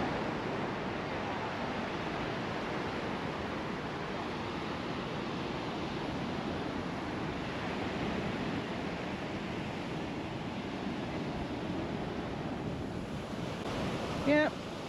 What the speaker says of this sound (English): It's a nice beach.